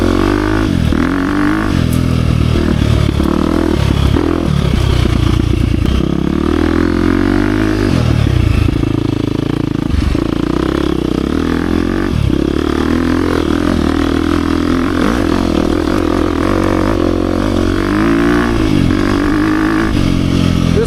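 A 2023 KTM 350 XC-F Factory Edition dirt bike ridden mostly in second and third gear, its engine roaring loud and close with constant revving, shifting pitch and off-road clatter throughout.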